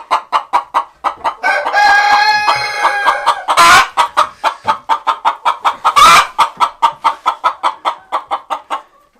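A hen clucks loudly and rapidly in a chicken coop beside roll-away nesting boxes, a close, steady run of sharp clucks broken by a couple of longer squawking cackles.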